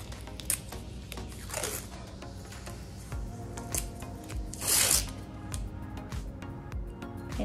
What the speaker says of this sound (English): I'm just going to take a little bit of painter's tape and make a border.